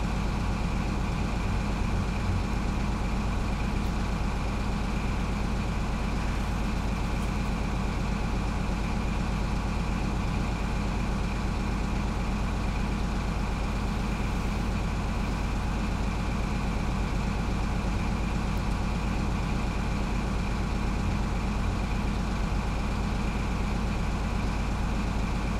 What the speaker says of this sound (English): let us enjoy this VP185 HST sound here